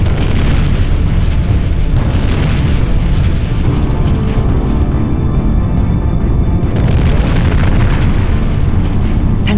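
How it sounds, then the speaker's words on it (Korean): Mount Vesuvius erupting, rendered as a continuous, very loud, deep roar with rumbling booms throughout and two sharper blasts near the start and about two-thirds through. "굉음과 함께 베수비오 화산이 폭발한 것이다."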